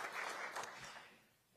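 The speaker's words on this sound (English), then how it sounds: "Let's give her a round of applause as well for leading this great institute." An audience at an America First Policy Institute event applauds Brooke Rollins, a short, faint, fairly distant round of clapping that fades out.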